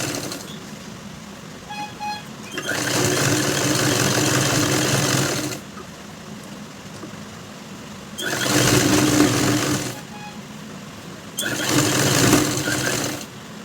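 A sewing machine stitches a blouse lining in three loud bursts of steady whirring, each a few seconds long, with quiet pauses between runs.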